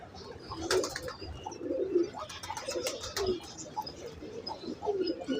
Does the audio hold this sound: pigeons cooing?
yes